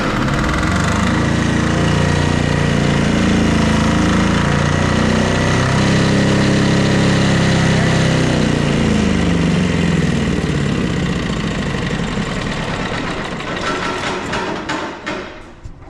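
Generator engine cranks up and runs loudly at close range for about fifteen seconds, its rough idle wavering and knocking before it sputters, falters and dies away near the end.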